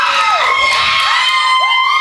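A wrestling-show crowd cheers and whoops loudly in a steady, dense roar of many voices, close and sustained without a break.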